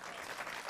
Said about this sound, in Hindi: आप लोगों ने ताली किस लिए बजाई ये बताइए जरा